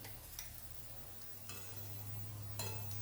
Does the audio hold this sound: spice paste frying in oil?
yes